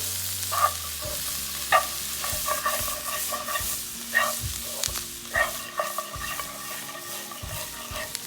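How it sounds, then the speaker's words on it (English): Mutton sizzling in a pan with cilantro for Chettinad mutton chukka varuval, a steady frying hiss broken by repeated scraping strokes of a spoon stirring the meat, close and moderately loud. "I'm going to add the cilantro and fry for just another minute or so"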